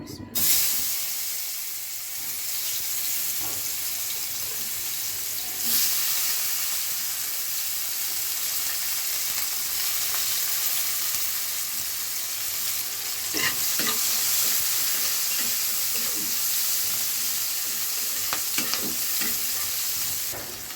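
Steady hiss and sizzle of onion and green chili frying in a pan, with occasional stirring clatter, continuous and close throughout.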